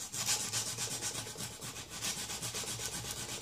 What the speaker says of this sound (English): taking a piece of like 80 grit emery cloth or whatever, and just sanding the schmooze